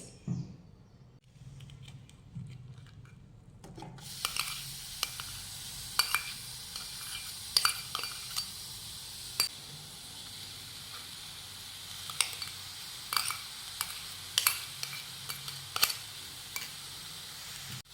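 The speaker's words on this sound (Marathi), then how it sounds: "खोबऱ्याचा किस घातल्यानंतर आता ह्याला मिक्स करून घेऊयात" Grated coconut being stirred into melted jaggery in a pan over low heat: a soft continuous sizzle with repeated light scraping and tapping strokes of the spoon, starting after a quiet opening, with no talking.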